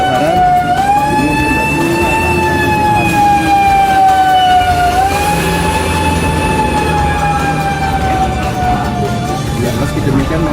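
A fire engine siren wails loud and close at a burning kiosk in a night market in Tegal, its rising and falling tone sweeping continuously over crowd noise and voices in the background.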